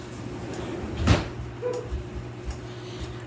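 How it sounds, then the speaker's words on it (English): A door in a kitchen is pushed shut with a single muffled thump, followed by a few faint knocks in a quiet room. "gotta go shut the door because maybe one of the chickens might come in."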